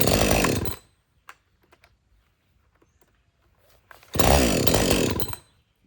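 Overheating modern chainsaw engine roaring briefly, then cutting out to near silence with small clicks and taps, before roaring again for about a second and dying once more.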